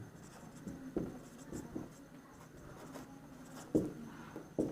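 Pen writing out a maths solution on paper, quiet scratchy strokes coming in short separate bursts, close and soft against a low background hum.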